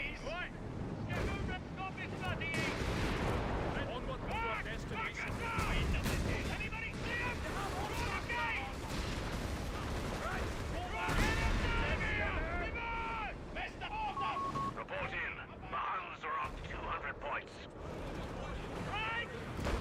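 Mortar and artillery fire in a Company of Heroes 3 match, repeated booming blasts and rumbling explosions layered over constant battle noise, with a voice talking throughout.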